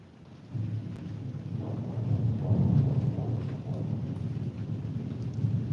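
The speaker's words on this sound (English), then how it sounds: "Every thunder crack that I hear out there" Low rumbling thunder rolls through a storm outside, a sustained deep roar that swells in the middle and lingers, heard from indoors at a moderate distance with no voices.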